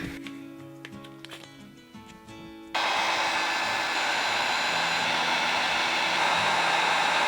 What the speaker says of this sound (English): Once we throw some hot air on this, it'll go and shrink